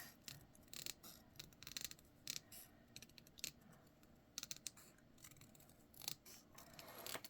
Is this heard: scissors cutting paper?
yes